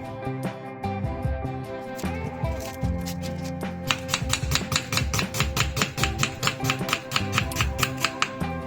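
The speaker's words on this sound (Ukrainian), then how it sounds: "За той час наріжемо цибулю." Rapid, steady knife chops dicing an onion on a cutting board, speeding into a brisk rhythm halfway through, with music playing underneath.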